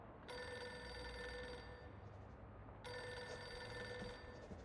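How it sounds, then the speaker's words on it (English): An office telephone in the video game Reverse 1999 rings in two long electronic trill bursts with a pause between them, set against a steady low background hum. "Pick up the phone already."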